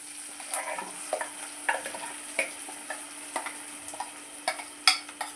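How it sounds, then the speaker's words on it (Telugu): Ground peanut chutney goes into a hot tempering of cumin, red chillies and curry leaves, sizzling softly while a spoon stirs with regular light clinks and scrapes at close range, no talking. "వేసిన తర్వాత మిక్సీ పట్టిన చట్నీ వేసేయాలి"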